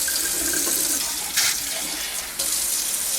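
Warm tap water runs steadily into a sink to rinse out a coffee machine's waste bin, a loud close hiss of flowing water with splashy shifts as the bin moves under the stream.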